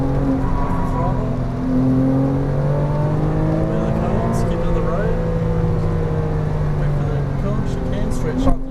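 A Porsche Cayman R accelerating hard on a track, its engine note rising steadily through the gears with a continuous droning roar, heard from inside the car under a driver's steady spoken instructions.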